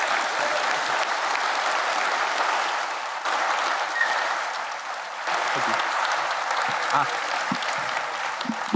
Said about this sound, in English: Now, that was one well-deserved applause.